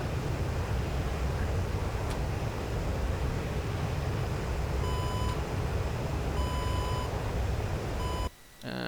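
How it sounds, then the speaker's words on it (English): Warning alarm beeps in the cockpit of an AJS-37 Viggen jet in DCS, three short bursts of high tones sounding at regular intervals over a loud, constant roar of engine and wind noise. "the alarms are going in"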